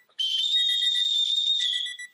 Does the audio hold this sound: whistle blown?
yes